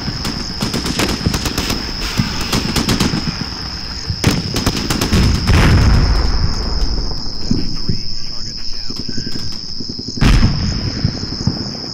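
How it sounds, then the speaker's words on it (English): Rapid bursts of sniper and automatic gunfire ring out against armored vehicles in the Combat Mission: Shock Force video game, loud cracks and rattling volleys over a steady high insect-like night chirr, with one heavy blast near the end. "the sniper team is finally in position and begins to fire on the armored elements"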